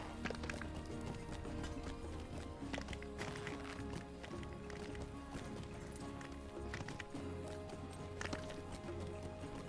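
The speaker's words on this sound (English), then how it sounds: "Horse steeds can be very difficult to maneuver at times." Horse hooves clip-clop at a quick running pace in Lord of the Rings Online, steady hoofbeats with a brief whinny, set against a continuous game music and ambient bed.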